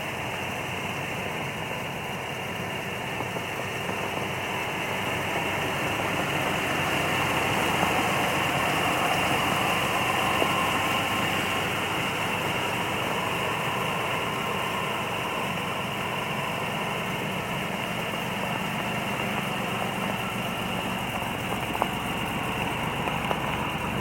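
A 1980 Buick Regal Turbo Sport Coupe idles in snowy weather, its engine giving a steady, fairly loud rumble and hum with slight rises as it loads up, running alone without voices.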